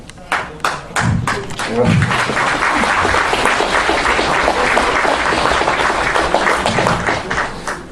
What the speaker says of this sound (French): Alors je remercie d'applaudir